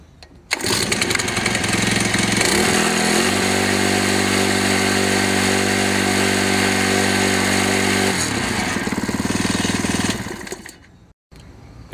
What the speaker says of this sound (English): This is the RB28 at the lower setting using the black cutters.